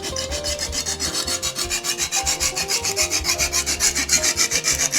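A chef knife is drawn back and forth across a diamond sharpening stone in quick, even strokes, each a bright, gritty scrape, repeating steadily about six times a second at close range with no talking.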